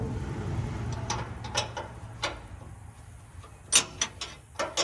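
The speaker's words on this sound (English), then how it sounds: "It's a job for Mr. Ratchet Wrench." A ratchet wrench is worked on a loose tank mount during restoration of a cabover truck, giving several short, sharp metallic clicking bursts spread unevenly over a low background rumble, close and fairly clear.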